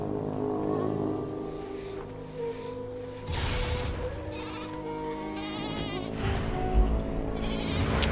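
Sheep bleat repeatedly in World of Warcraft, several wavering calls rising over a soft game ambience with a faint insect-like buzz.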